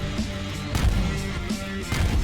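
Repeated booming explosions in the Star Fetchers video game, a loud dense series of blasts in quick succession with heavy low rumble, with no speech.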